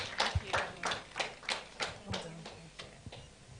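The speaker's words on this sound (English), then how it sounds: "Please give her a round of applause." Audience applause welcoming a speaker at a business forum, a run of hand claps, fairly faint and roomy, that swells and then tapers off over a few seconds.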